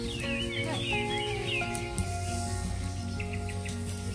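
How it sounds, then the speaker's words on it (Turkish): Birds chirp and trill in a village garden, several overlapping calls near and far over a steady low background hum, faint and continuous. "Anne, çok fazla kuş sesi var değil mi anne?"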